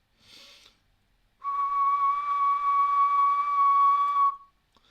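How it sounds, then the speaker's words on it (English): A single steady human-whistled tone, a near-pure sine wave, held for about three seconds, clear and close, following a short breathy hiss. "look at the shape of the musical notes when I whistle."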